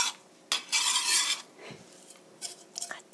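Batter for green hot pepper pancakes being mixed with carrot, garlic and green onion in a bowl, giving a few short bursts of utensil scraping and clinking, fairly close and quiet, with no talking.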